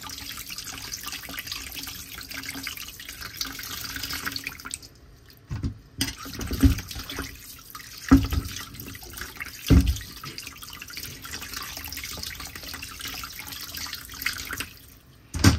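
Water runs steadily from a tap into a sink, with clanks and knocks of a pot used for boiling paya being scrubbed and moved, pausing briefly now and then.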